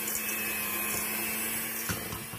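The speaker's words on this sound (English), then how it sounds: "go ahead and unplug your mixer" An electric mixer on its low setting works through chocolate cookie dough, giving a steady close-up motor whir with a constant hum and a few brief bumps, no talking.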